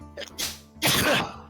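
A person with hay fever lets out a sneeze: a short breathy lead-in, then a loud, explosive burst.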